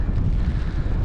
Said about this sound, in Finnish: Tässä vaikka tuulee